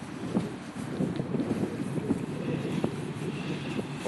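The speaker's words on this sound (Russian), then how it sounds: "ветер вот заебал, если честно. Сколько можно дуть?" Wind blows outdoors, buffeting the microphone in a continuous low rumble with gusty swells throughout, and no voices are heard.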